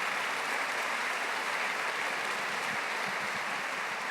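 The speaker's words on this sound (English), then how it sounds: "I think that's worthy of applause right there" An audience at an AWS 2024 climate event claps in a steady, dense wash of applause that runs evenly for several seconds, with no talk over it.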